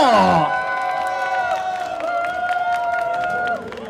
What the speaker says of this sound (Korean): 박수 함성이요!